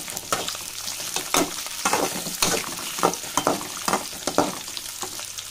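Food sizzles steadily in a pan on a gas stove, with repeated scraping and clattering stirs close by and no talking.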